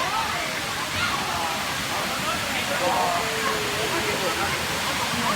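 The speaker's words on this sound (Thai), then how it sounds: "นี้คือ น้ำตกชั้นที่หนึ่ง" The first tier of Erawan waterfall in Kanchanaburi gives a steady, broad rush of falling and flowing water, an even wash heard up close with faint splashes throughout.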